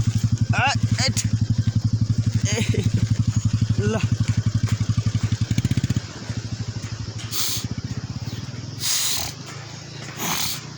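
A motorcycle engine putters loudly nearby with a steady rapid rumble, then shifts and fades as it passes, with a brief spoken word and some rustling.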